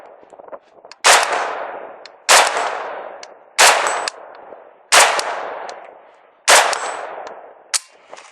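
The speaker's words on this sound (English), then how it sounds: "So that was a bunch of hits." Single AK47 rifle shots fired at steel targets: five loud, evenly spaced cracks, each trailing a ringing metallic echo, followed by a fainter sixth shot at the end.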